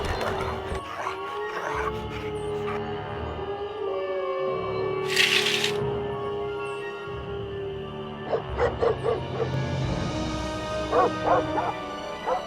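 Ghost dogs in the Nancy Drew game Ghost Dogs of Moon Lake bark, yip and whimper over a steady eerie drone, with a scattered series of close barks and a brief hissing burst midway.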